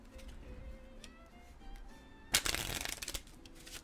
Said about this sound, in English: One more shuffle for luck.